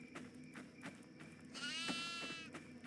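A goat bleats in the horror video game Devour, a long wavering cry with rich harmonics rising over steady game ambience and soft rhythmic thumps, fairly close and clear.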